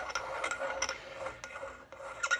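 Cotton string saws back and forth through an RC car hard body shell, making a close, dry rasping rub in quick uneven strokes with small ticks, alone without talk.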